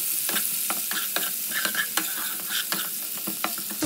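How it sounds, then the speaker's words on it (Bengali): Chopped onion fries in oil left over from frying potatoes, giving a bright, steady, close sizzle with quick crackles and stirring scrapes throughout, with no talking. "সেই জন্য আমি যেটুকু তেলে আলু ভাজলাম ওই তেলেই আমি পেঁয়াজটা দিয়ে দিলাম।"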